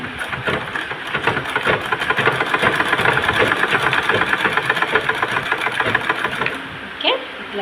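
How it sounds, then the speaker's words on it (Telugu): A sewing machine stitches fabric with a fast, steady mechanical whir and needle chatter, running continuously for several seconds before stopping near the end, with a person speaking over it. "ఇట్లా చిన్నగా వెనక ముందు అనుకుంటే జర అందమైన కుట్టు వచ్చింది అనిపిస్తుంది నాకైతే బాబిన్ మార్చేసరికి"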